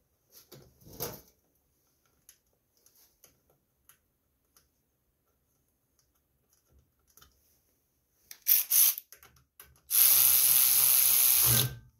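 Bolts being tightened on the shroud of an Agri-Fab leaf vacuum with a Briggs engine, heard as scattered faint ratcheting clicks and taps in a quiet space, then a louder rustle and a steady rushing noise near the end.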